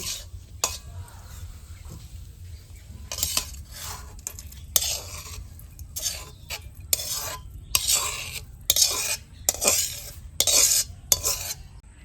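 Dhepa greens being stir-fried with egg in a pan: repeated bursts of a utensil scraping and clattering against the pan in an irregular rhythm over a low, steady sizzle.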